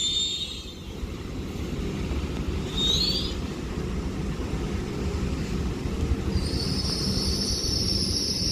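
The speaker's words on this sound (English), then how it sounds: "arriving in is going to be your second train, Avanti West Coast Class 807" An Avanti West Coast Class 807 train arrives at Liverpool South Parkway station, a loud, steady rumble of wheels on rails with sharp high squeals from the wheels coming and going as it rolls in.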